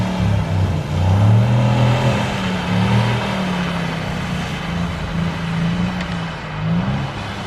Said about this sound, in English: Nice bit of drifting going on there.